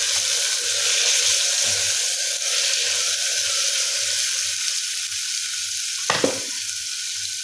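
Chopped tomatoes and potatoes sizzle steadily in a pan for a Maharashtrian chawli-potato curry, a constant hiss with low clinks of stirring and a brief louder scrape near the end.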